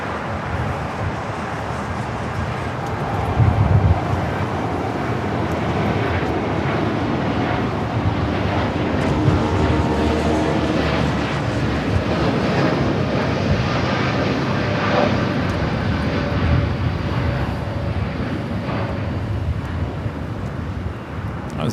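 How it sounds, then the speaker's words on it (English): A Boeing 787 Dreamliner takes off from LAX bound for Miami, its engines a loud, steady broadband roar that holds for the full stretch, with wind buffeting the microphone. "That was the Dreamliner heading to Miami, Florida."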